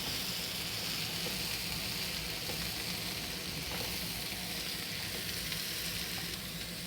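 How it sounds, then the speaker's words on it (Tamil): Chopped carrots sauté in a hot pan, giving off a steady, even sizzle throughout with faint stirring and no talking. "இந்த கேரட் பச்சை வாசனை போகிற வரைக்கும் அப்படியே வதக்கலாம்."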